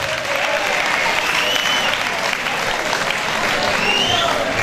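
A crowd at a national patriotic slam championship applauds the first five contestants, dense steady clapping filling the room at an even level from start to finish with no talk over it.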